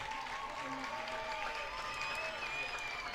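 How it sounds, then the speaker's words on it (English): Baseball stadium crowd at a college game, Michigan Wolverines vs. USC Trojans, cheering and applauding for batter Cole Caruso: dense, sustained roar of voices and clapping, fairly distant and even, with faint commentary mixed in. "Crowd getting loud for Cole Caruso."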